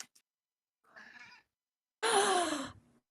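A pet cat meows indoors, a faint chirp at the start, then a soft short meow and a louder drawn-out one, each set apart by silence.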